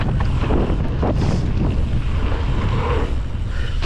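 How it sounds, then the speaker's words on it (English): Gusting wind blasts across an outdoor microphone, a loud, steady roar with rough low-end buffeting that swells and eases throughout. "Yeah, it's windy."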